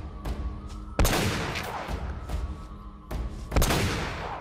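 Gunshots in the video game Uncharted: Drake's Fortune, a few sharp loud cracks with echoing tails, including paired shots near the start and end, with no talking.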